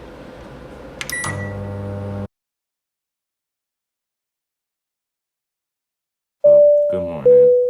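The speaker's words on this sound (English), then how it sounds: "Microwave." A hotel room microwave hums steadily for a couple of seconds and stops, then after a silence it gives two loud, sustained beeps.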